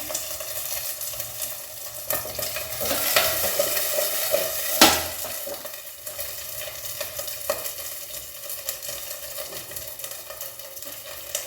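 Ingredients frying in a pan for a radish and fresh coconut chutney. An even sizzle continues under repeated stirring scrapes and a sharp clack of the spatula against the pan, with no speech.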